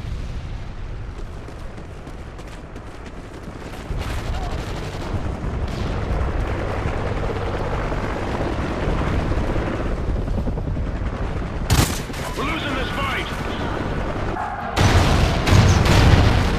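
An MI-24 Hind helicopter in Call of Duty: Ghosts roars loudly and continuously amid booming explosions and gunfire, with sharp blasts near the end.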